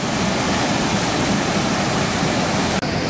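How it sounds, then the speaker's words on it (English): A powerful waterfall on the Ghorepani Poon Hill Ghandruk trek in Nepal roars in a dense, constant rush of water, loud and close, with a brief dropout just before the end. "You can hear the intensity of this waterfall"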